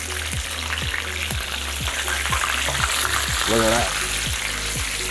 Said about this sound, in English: You know that oil's hot because you hear that that Rice Krispie kind of sound